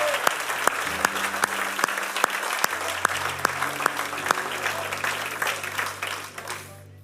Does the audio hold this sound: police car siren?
no